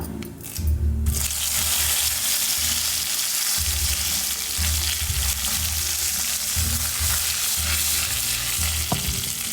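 Curry leaves tempering in hot oil for onion-chilli chutney: a sharp burst of crackling as they hit the pan, then a loud, steady close sizzle with stirring scrapes and one brief clink near the end.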